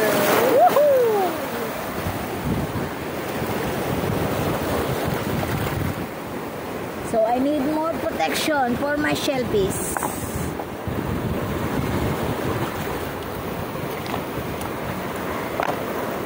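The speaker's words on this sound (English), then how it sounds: "There is a lot of big wave of water." Big ocean waves surge and wash against a shore where shellfish are being gathered, a steady roaring wash with gusting wind noise across the microphone, while a person talks over it throughout.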